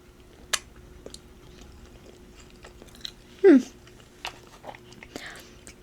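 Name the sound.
eating and chewing food dipped in ranch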